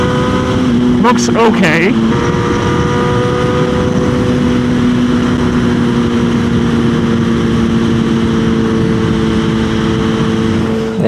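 A motorcycle riding at speed, its engine holding a loud, steady droning hum with wind rush throughout; someone briefly speaks near the start.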